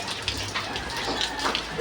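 Heavy rain pours steadily in a dense, constant hiss, with drops pattering loudly on nearby surfaces and no talking.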